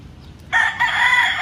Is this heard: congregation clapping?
no